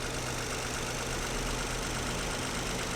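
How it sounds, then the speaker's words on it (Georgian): An imported three-cylinder Ford Bronco, brought over from Canada, idles roughly with a steady, close, uneven low rumble and no talk. "ცოტათი ყანყალებს, მაგრამ მე მგონი ეს ძრავები ესე მუშაობს, იმიტომ რომ სამცილინდრიანია და თლად რბილად ვერ იმუშავებს"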